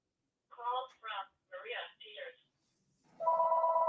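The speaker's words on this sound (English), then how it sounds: "Y'all hear my phone in the background." A telephone rings in the background after a stretch of speech, a steady repeating electronic tone starting near the end, moderately loud.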